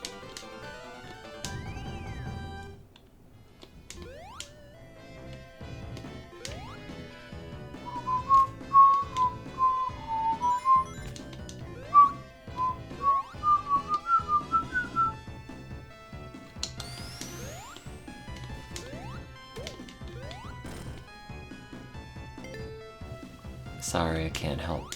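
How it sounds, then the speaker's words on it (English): A man whistles a wandering, tuneless melody in short bursts while playing Sonic-style Genesis game music, the whistled notes rising over the game sounds and speech. "I can't help but whistle or make the little noises with my mouth"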